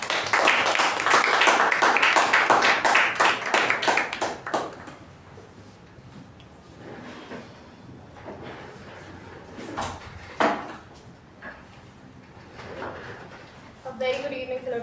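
A Toastmasters meeting room fills with dense, lively clapping for the first few seconds, then it fades away and a person starts speaking with a few scattered knocks and shuffles.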